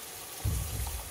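Water goes into onions frying in oil, and a sudden low burst of bubbling sizzle rises halfway through, close and moderately quiet, with no talking.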